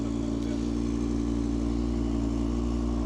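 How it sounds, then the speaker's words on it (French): An Audi TT RS cabriolet's five-cylinder engine runs right after a cold start with a loud, steady, low rumble that holds even throughout, heard close up with no one talking. "on aura un peu plus de plaisir à écouter le son du 5 cylindres"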